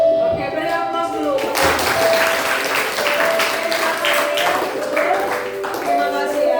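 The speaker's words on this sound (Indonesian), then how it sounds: "Oke, beri aplaus dulu" A classroom group finishes its presentation and the class breaks into sustained applause, many hands clapping steadily for several seconds at close range, with faint voices under it.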